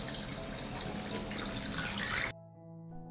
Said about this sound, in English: I pour hot water into the pot.